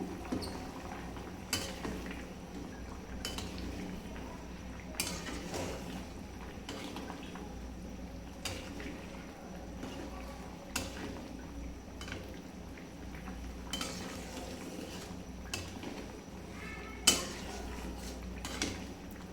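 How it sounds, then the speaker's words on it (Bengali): Mung and masoor dal stirred together in a pot, repeated clinks and scrapes of a spoon against metal at regular intervals over a low simmering bubble, fairly close and with no speech. "যত নাড়া হবে ডাল ততই খেতে ভালো লাগবে"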